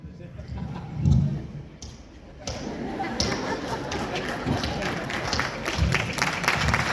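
An audience claps at a Modicare event in Jaipur, a brief thump and then a sustained, dense patter of applause that builds slightly, with someone speaking over it.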